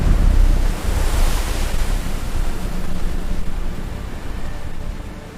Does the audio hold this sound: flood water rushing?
yes